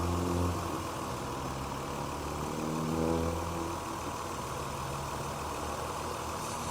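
A Ford Taurus 3.0L 24-valve DOHC engine idles with its PCV line pinched, giving a steady low hum with a slight dip and rise in speed, moderately faint and without talk.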